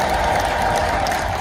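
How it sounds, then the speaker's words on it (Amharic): A church congregation at an Ethiopian Orthodox sermon bursts into loud, dense applause that fills the whole short moment, with a bright crowd wash above it. "እስኪ በሚሰማ እልልታና ጭብጨባ አመስግኑት።"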